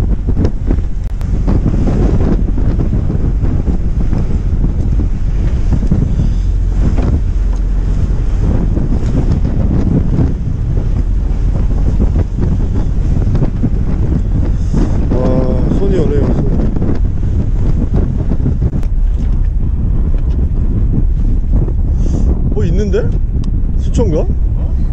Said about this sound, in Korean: 와 바람 장난 아닌데 형님